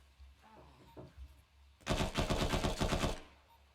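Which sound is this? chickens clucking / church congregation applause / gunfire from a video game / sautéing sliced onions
gunfire from a video game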